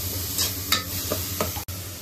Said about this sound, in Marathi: ओके, गार्लिक अँड चॉप करून घेतलंय. ऑइल गरम होतच आपण त्याच्यामध्ये टाकणार.